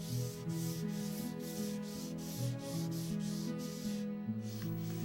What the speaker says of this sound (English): I finish with hand sanding to create a flatter and smoother surface